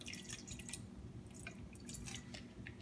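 Water dripping into a squid and tofu stir fry, with quick, light splashes and patters in scattered bursts over a low steady hum, faint and close.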